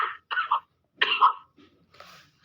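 Several close, dry coughs in quick bursts, followed by a softer throat-clearing sound.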